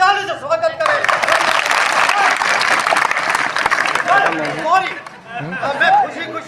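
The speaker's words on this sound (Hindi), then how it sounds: "इनका आप ताली से स्वागत करें।" Crowd applause and chatter greeting a legislative assembly candidate at a Bagidora, Banswara election rally, loud and sustained for several seconds with voices mixed in, fading toward the end as talk takes over.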